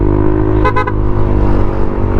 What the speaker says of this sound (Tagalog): Okay naman siya ngayon since nagpalit na tayo ng PIA horn.